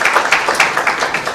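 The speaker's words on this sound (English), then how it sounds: "Maybe you can give her a better clap, please." Audience at a live political address in Kenya claps steadily, a dense continuous patter of many hands filling the short moment at close, loud level.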